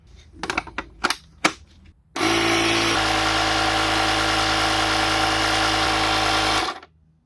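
Ryobi R18I battery inflator pumping a 235/85 R16 tyre, not fully charged and straining: a few clicks and knocks first, then a loud, steady buzzing motor drone close by that runs for about four seconds and stops abruptly.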